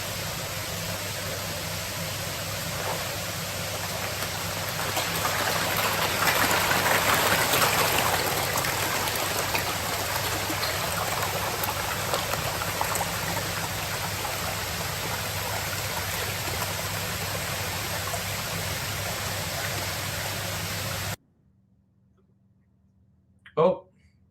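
Water rushing and splashing steadily around a koi pond, a close and continuous broadband wash that swells briefly in the middle before abruptly cutting to near silence, with a short voice at the very end.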